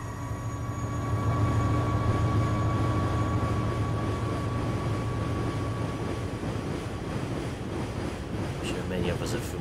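A train on a railway through a farm map in a video game rumbles past as a steady low drone with a faint tonal hum, loudest early and slowly easing off.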